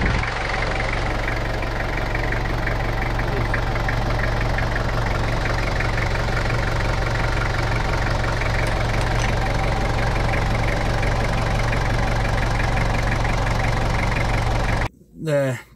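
A 1995 Toyota Hilux diesel engine with an engine fault idles with a steady low drone and a rhythmic knocking clatter, close and continuous, before the sound cuts off near the end.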